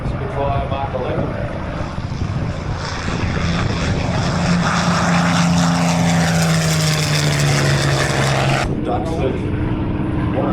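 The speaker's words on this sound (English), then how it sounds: "Spitfire Mark 11." A Spitfire Mark XI propeller warplane flies past at the Warbirds Over Wanaka airshow, its engine a loud, sustained roar that swells and shifts in pitch as it passes, then drops away abruptly near the end.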